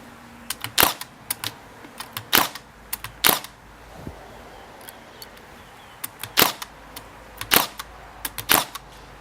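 Sharp clacks of a Makita 18V DST630 cordless narrow crown stapler driving staples, fired in irregular bursts of single and paired shots with short pauses between, close and crisp over quiet background.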